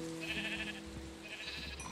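A little white sheep bleats in Minecraft, two short synthetic bleats close and clear over a steady game hum, with no voices.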